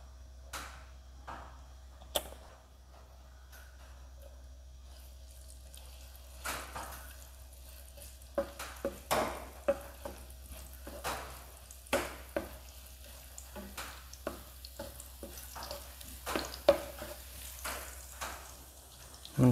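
Mixed fried rice fries in oil in a pan, giving a faint, steady sizzle broken by scattered clicks and scraping stirs, quiet throughout with no talking.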